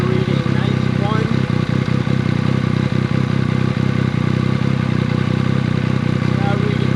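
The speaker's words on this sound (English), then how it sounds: "So at an idle, where I thought we were reading 91," SC Project CRT exhaust on a motorcycle idling outdoors, a loud steady low rumble with irregular clattering pulses, running continuously under a voice talking.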